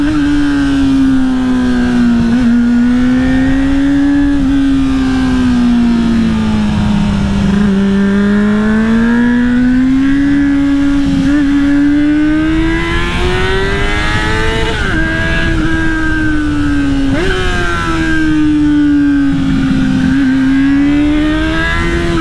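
Honda Hornet motorcycle pulling hard in sport mode, its loud engine note rising and falling steadily through repeated gear changes over about twenty seconds, close and continuous with no talking.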